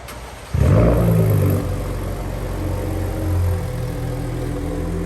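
A race red Gen 3 Ford Raptor truck rolls into a showroom, its engine rumble rising suddenly and then holding as a steady, fairly loud drone with a slight swell near the end.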